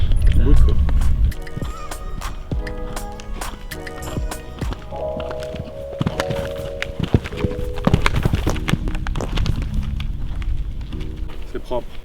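Horse hooves on a show-jumping course at an international competition, irregular thuds and clops spread through the clip under loud commentary, music and crowd noise.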